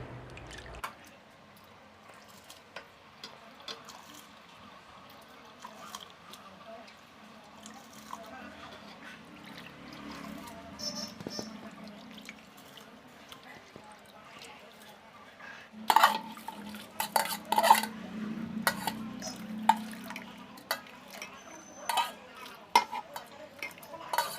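Soaked rice for fried rice is tipped into a pot of boiling water, heard as soft pattering and splashing with a clatter of the pot over a quiet bubbling background, as a person talks.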